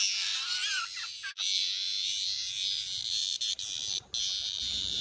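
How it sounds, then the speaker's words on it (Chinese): A cicada buzzes continuously while a pet jay swallows it, a shrill sustained drone with brief dropouts and a few sharp knocks. "这种知了被它吃的时候一直叫，被它吞下去了还会一直叫"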